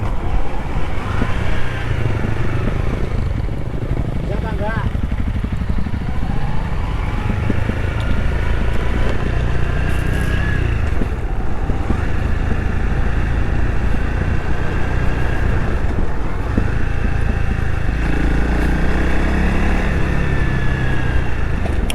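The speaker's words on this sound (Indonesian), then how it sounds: "Sekarang semua sudah jadi motor dual sport." Dual sport motorcycles touring toward Bromo on the Sundoro–Lumajang route, engines droning steadily and close with occasional revving swells over constant road and wind noise.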